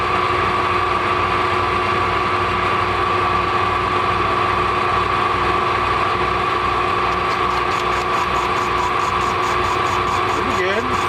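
Machine running a small skim cut on an earth drill part in a workshop, a loud, steady mechanical hum with a regular pulsing beat, and faint speech over it near the end.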